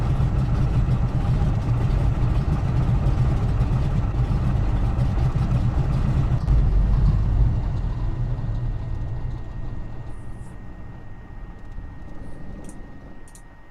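Twin engines of a Grumman Goose in Flight Simulator X hum and drone steadily, then wind down after about seven seconds, the low rumble fading to a quiet tail with a couple of faint clicks.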